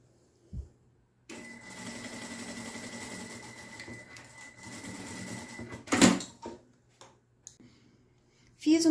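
A domestic sewing machine stitches a ribbon channel seam along a fabric edge, backstitching at the start and finish. It makes a steady mechanical whir for about five seconds, then gives a few sharp clicks and thumps as it stops, with no talking.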